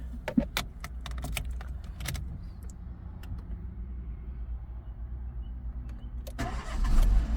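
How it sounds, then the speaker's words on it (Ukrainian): A Renault Clio is started from cold, beginning with keys jangling and clicks, then the engine cranks and catches, settling into a steady, even idle that swells slightly at the end. "Автомобіль заводиться з півоборота на холодну, працює рівно, стабільно, справно."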